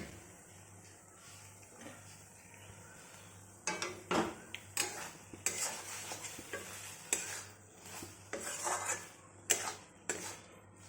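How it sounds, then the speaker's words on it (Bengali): Dahi bhindi being stirred in a kadai once the lid comes off, with a spoon scraping and clinking against the pan in irregular bursts over a soft sizzle and a steady low background hum. "এবার ঢাকনাটা খুলে একবার নেড়ে নেব"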